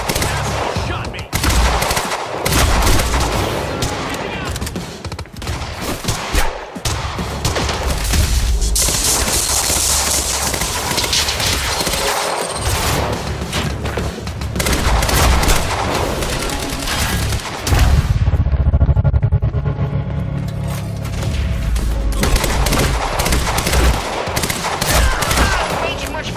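Heavy gunfire from the video game Quantum Break, with rapid machine-gun bursts and booming shots that fill the scene loudly and continuously, broken by brief pauses and occasional voices in the mix.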